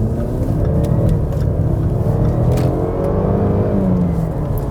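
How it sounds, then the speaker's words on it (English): A 2018 Jaguar XE R-Sport with the Ingenium 25t turbo petrol engine and AWD accelerates under load, giving a steady low engine drone with rising harmonics heard from inside the cabin, with no talking. "Now you've also heard more sound from the engine."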